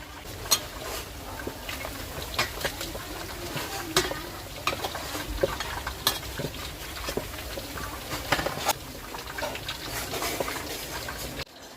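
Pork bones deep-frying in hot oil for a garlic-pepper dish, giving off a dense, continuous crackle and spatter with scattered sharper pops, fairly close and without speech.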